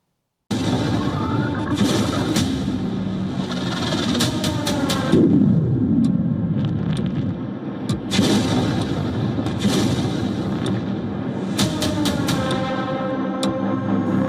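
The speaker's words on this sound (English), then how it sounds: "Kyiv's skyline lit up with explosions. Watch the moment missiles and drones rained down." Heavy explosions from Russian missiles and drones striking Kyiv at night boom one after another over a constant rumbling roar, with sharp cracking blasts scattered throughout, loud and distant-sounding.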